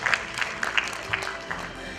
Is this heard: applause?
yes